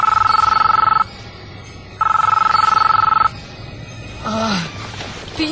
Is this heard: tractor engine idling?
no